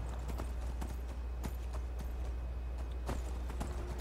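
Horse hooves clip-clopping in the video game Skyrim, a steady run of close, distinct hoof strikes over a constant low background hum, with no talking.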